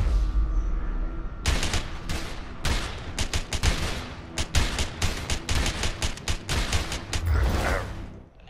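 Gunfire from the video game A Way Out: rapid bursts of shots in quick volleys, sharp and loud, clustered over several seconds with brief gaps, alone without talk.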